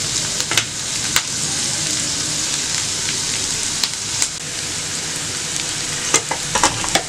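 Cut eggplant sautés in a pan for a chutney, a steady loud sizzle running throughout with occasional sharp scrapes and clinks of stirring.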